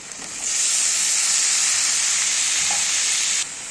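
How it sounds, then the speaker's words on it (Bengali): Greens tossed into a pan of frying crushed garlic set off a loud, steady sizzling hiss that rises suddenly, holds for a few seconds and then drops away, with no talking. "রসুনটা একটু ভাজা ভাজা হয়ে গেলে আমি শাকটা দিয়ে দেবো এর মধ্যে।"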